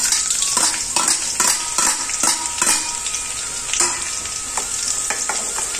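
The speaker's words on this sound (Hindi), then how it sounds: "हमें इसमें डाल देंगे बारीक कटा लहसुन," Finely chopped garlic frying in hot oil for kadhi, stirred with a spoon against the pan: a steady close sizzle broken by repeated scraping strokes, with no talking.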